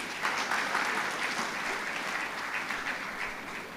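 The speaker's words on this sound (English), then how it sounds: "Can we please give him another round of applause?" At the Lagos International Climate Change Summit, a large conference audience gives a fairly soft, steady round of applause for a speaker after a presentation.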